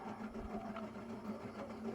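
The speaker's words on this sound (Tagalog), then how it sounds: "Langas kayo kong electric fan guys." Steady mechanical whirring with a persistent low hum and rattly noise, continuous and close, like a worn electric fan running loudly.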